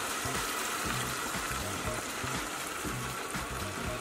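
Cream poured into a hot pan of browned bacon for spaghetti carbonara gives a steady, bright hissing sizzle that runs throughout beneath a talking voice.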